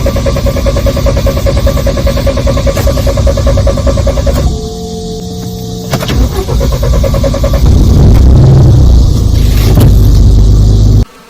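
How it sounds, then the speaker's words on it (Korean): A car that won't start cranks steadily for several seconds without catching, the tone shifting midway, then the engine fires and runs louder for the last few seconds before cutting off. "시동이 안 걸리다가 후반부에서 약 7초 남겨놓고 시동이 걸립니다"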